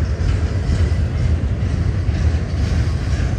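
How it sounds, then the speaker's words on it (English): A double-stack freight train climbs the steep Cajon Pass grade in California, its steady loud rumble and rolling wheel noise continuous and close, with no voices. "The train on the left had a head start, but the train on the right's moving a little quicker"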